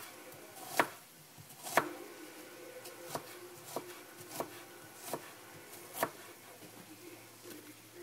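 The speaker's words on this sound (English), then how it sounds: "we're just going to chop the onion in half" A knife chops an onion in half and then into pieces on a cutting board in a home kitchen, with about eight sharp separate knocks spaced irregularly, close and fairly soft.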